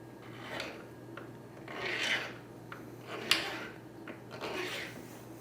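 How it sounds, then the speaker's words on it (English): Hand file rasping the edges of a silver metal clay pendant, a series of short scraping strokes, about eight in a loose rhythm, close and fairly quiet, with no talking. "We're going to start filing the edges."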